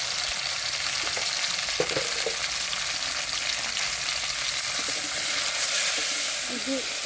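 Rohu fish curry with salt and turmeric being stirred in a hot pan, a continuous bright sizzle with occasional soft spoon scrapes, steady and close throughout.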